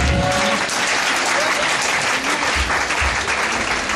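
Church congregation clapping after a testimony, a steady dense round of applause filling the room throughout, with faint voices mixed in.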